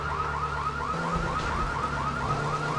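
A car alarm blaring in the Grand Theft Auto 3 video game, a loud, continuous, rapidly warbling electronic siren pattern over low in-game engine rumble, with no speech.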